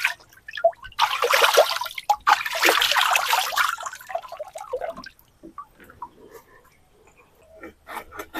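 Freshly scaled fish is rinsed under water, giving a loud hissing splash and trickle for a few seconds that fades into quieter dripping and handling noises.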